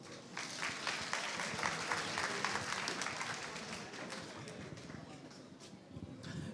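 Audience applause at a Haitian concert and competition event, a steady patter of clapping at moderate distance, fairly faint, with some crowd noise and voices mixed in.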